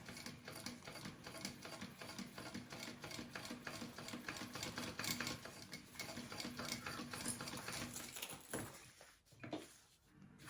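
A sewing machine stitches together the pieces of a mini backpack, running in a steady, fast mechanical whir of needle strokes for most of the stretch, then slowing and pausing in short bursts near the end.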